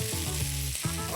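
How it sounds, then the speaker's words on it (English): A vegan tacos al pastor filling fries in a pan, a dense, close, continuous sizzle with crackling pops throughout the brief moment, with nothing else heard. "we're gonna let this cook until it gets nice and toasty and brown in all parts"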